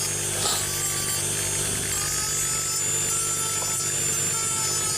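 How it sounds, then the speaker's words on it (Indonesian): Cut edges of a scale-model Hino Fuso 500 truck wheel are sanded smooth with fine sandpaper: a steady, close scratchy rasping that continues evenly without pauses. "dan kita amplas"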